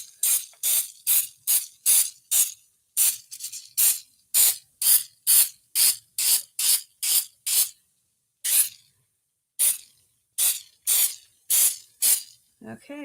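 A hand spray bottle fires a rapid run of sharp, loud hissing squirts, more than twenty in close rhythm with a couple of brief pauses, each burst crisp and short.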